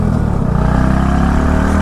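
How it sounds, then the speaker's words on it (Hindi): A motorcycle engine revs on a highway, a brief loud mid-pitched roar rising and holding close by, with no voices. "साउंड तो कर रहे हैं बाइक का"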